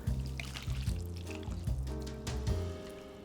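Blanched cockles are rinsed under running water, which pours and trickles steadily with small splashes and a low rhythmic gurgle, close and fairly quiet.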